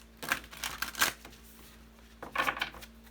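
Tarot cards being shuffled by hand during a reading, two quick bursts of riffling and flicking close up, separated by a short pause, in a quiet room with no talking.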